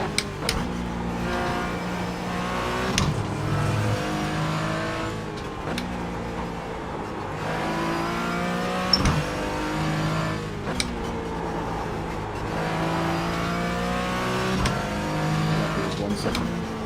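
Race car engines in a Nurburgring 24-hour racing game drone continuously with repeated upshift steps as another car approaches; the sound is steady and fairly loud throughout, with a few sharp clicks.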